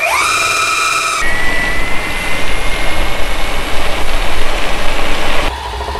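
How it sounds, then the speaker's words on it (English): A belt-driven electric skateboard motor on a Backfire Ranger X2 runs on sand, opening with a rising high whine that cuts to a loud, steady, gritty mechanical drone close by, then drops away near the end. "The belt motor."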